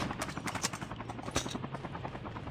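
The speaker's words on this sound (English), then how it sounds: "They're just shooting at that helicopter." A helicopter in the Call of Duty: Mobile battle royale game, its rapid rotor chop pulsing steadily at moderate distance, mixed with bursts of gunfire aimed at it.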